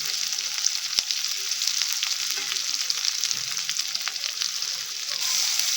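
Onion and dry red chillies fry in hot oil for raw banana palya, giving a steady, close sizzle with small crackles and pops throughout and no talking.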